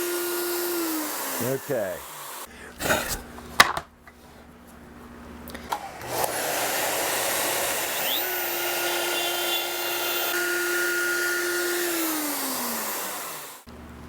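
A router cuts a 3/4 inch deep pocket into a guitar body with a steady high whine and a rising and falling pitch as it bites into the wood. Clatter and a brief spoken word come early.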